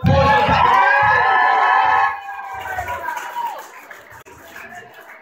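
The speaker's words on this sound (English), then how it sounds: "Give yourself a massive round of applause." Comedy-show crowd in Kalgoorlie cheering and clapping loudly, with shouts and whoops up close at first, then fading into scattered claps and murmuring as the noise dies down.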